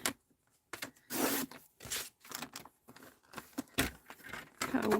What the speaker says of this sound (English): So I'm going to cut it halfway.